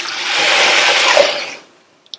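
Water pours steadily into a pot of soup for about a second and a half, a close, rushing splash that stops abruptly and is followed by a faint clink.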